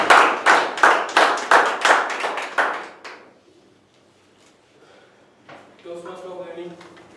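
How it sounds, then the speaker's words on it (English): About ten loud, evenly spaced hand claps from a small Toastmasters meeting audience, stopping abruptly, followed by quiet and then a voice speaking. "Give it a big round of applause."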